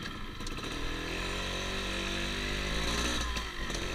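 A Yamaha Force One 110cc four-speed motorcycle pulls away, its small engine droning steadily and close for about four seconds, with no speech over it.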